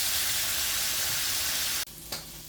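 Squid frying in butter in a pan gives a steady, dense sizzle for about two seconds, then cuts off abruptly, leaving a faint hiss.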